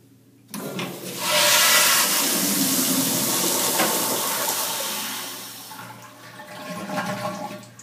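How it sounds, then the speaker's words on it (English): A hotel room toilet flushes with a sudden loud rush of water that roars for several seconds, then eases into a softer refilling hiss and trickle, close and alone. "So this is what happens when I flush the toilet in my hotel room."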